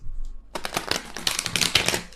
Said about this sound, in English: bear with me as I try to shuffle these cards like a normal person